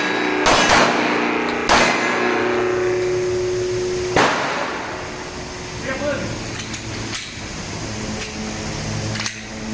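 A Glock 19 pistol, tested after wading through floodwater, fires a series of sharp, loud shots spaced a second or more apart, with people talking between them.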